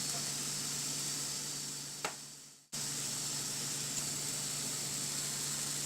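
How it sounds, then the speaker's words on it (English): Onions fry in hot oil in a pan for a spicy broccoli yogurt curry, giving a steady, even sizzling hiss that dips briefly midway before resuming. "And while frying the onions,"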